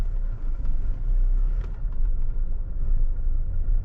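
A 2020 Hyundai Creta SX with a 1.5L diesel engine pulls in second gear, a low, steady cabin rumble that swells slightly as it accelerates.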